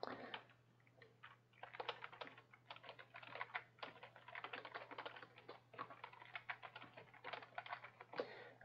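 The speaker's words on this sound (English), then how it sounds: "Excuse me, typing too fast tonight." Rapid typing on a computer keyboard, bursts of quick key clicks with brief pauses, close and fairly quiet over a low steady hum.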